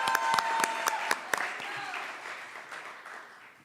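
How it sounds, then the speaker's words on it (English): An audience at an open mic writing event applauds, dense clapping that starts loud with sharp individual claps and gradually fades, with a voice briefly over it. "Another round of applause."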